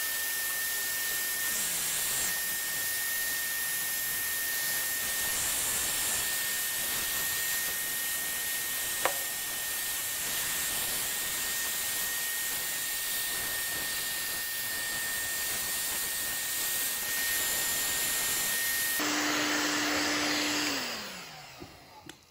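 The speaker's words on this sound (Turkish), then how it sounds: "Donduktan sonra ısı tabancasıyla biz tekrar eritiyoruz." Heat gun blowing steadily while melting beeswax on a wooden surface, a constant close hissing airflow with a faint tone, ending in a brief descending shift as it is switched off.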